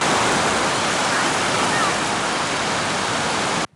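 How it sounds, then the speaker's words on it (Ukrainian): The flooding Tisza river in Transcarpathia rushes with a dense, loud, continuous roar of torrential water, unbroken until it cuts off abruptly at the end. "Річка зносила усе на своєму шляху, розмивала дороги, трощила дерева, не встояли навіть мости."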